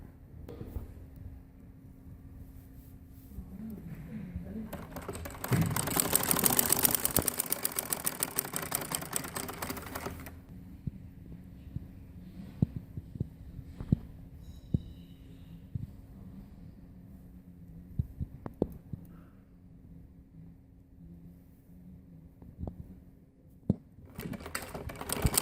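A sewing machine stitches a bag for churidar pajamas. One whirring run of stitching lasts about five seconds, then gives way to a quiet room with scattered small clicks and handling sounds.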